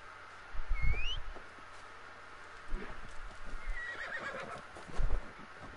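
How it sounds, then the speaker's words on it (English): A horse in a video game snorts, neighs and whinnies loudly up close, with scattered hoof clops and shuffling between the calls. "Good horse."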